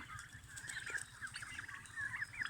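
A flock of free-ranging turkeys gobble and call repeatedly, the chattering calls overlapping continuously at moderate distance outdoors.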